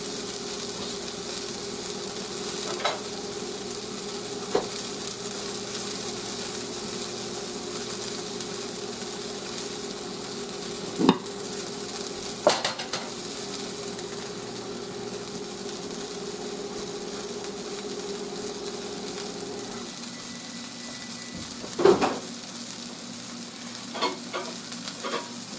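A homemade pancake cooks in a pan with a steady, low sizzle and faint frying hiss, broken by a few sharp clicks and utensil taps near the end, with no one talking.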